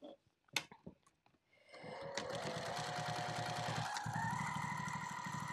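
A sewing machine stitches across bag strapping: a few handling clicks and taps, then the motor starts and runs in a fast, steady rhythmic whir that shifts pitch slightly partway through, close and unaccompanied by talk.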